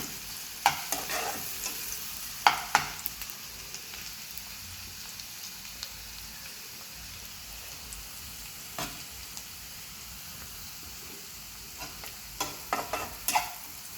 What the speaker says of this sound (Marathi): आता हा कांदा, बटर आणि तेल हे आपलं थोडं शिजू द्यायचं आहे.